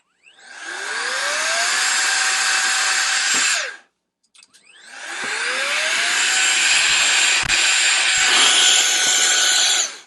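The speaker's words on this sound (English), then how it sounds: "So that's the Atengeus cordless compressed air duster." An Atengeus cordless compressed air duster blows a loud, steady rush of air that rises in pitch as it spins up, cuts off briefly, then restarts and runs continuously.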